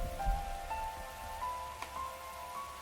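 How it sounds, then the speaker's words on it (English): Heavy rain pelts a rooftop in a video game, a soft steady patter with faint sustained tonal hums and a few small thumps, quiet and continuous. "Raindrops were pelting the rooftop, producing a relentless rhythmic beat."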